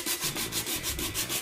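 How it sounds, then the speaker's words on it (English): 60-grit sandpaper scrubs across a pepakura model in fast back-and-forth strokes, producing a loud, close, rhythmic rasping hiss that pulses about every fifth of a second. "So first, you'll start with your 60 grit sandpaper."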